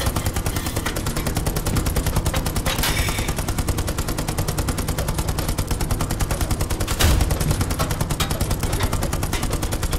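An M4A2 Easy 8 tank's coaxial machine gun fires in a war video game, a loud, sustained rapid rattle of shots that holds steady for the full ten seconds, with one heavier thump partway through.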